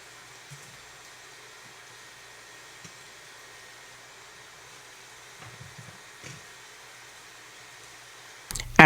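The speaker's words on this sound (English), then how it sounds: "the blow dryer has probably been on for about 10 minutes" A hooded hair dryer runs over a freshly washed wig with a faint, steady airy whoosh. A few soft bumps are heard, and a brief louder noise comes at the very end.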